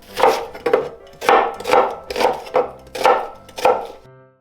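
A knife slices green onion on a cutting board in a home kitchen, with about eight firm, evenly spaced chops, close and crisp, with no talking over them.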